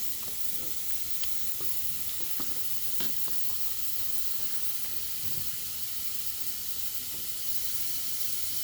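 Spray paint hisses steadily onto a lawnmower during a makeover in a warm workshop, a continuous faint airy spray with a few small clicks and knocks, no voices.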